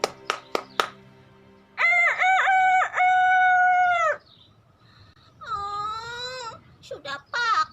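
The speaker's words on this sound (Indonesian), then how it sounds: "Aiman terbangun saat mendengar ayam jantan berkokok." A rooster crows in long, loud, wavering calls, once and then again a few seconds later, after a few sharp knocks at the start, in a cartoon-style children's story scene.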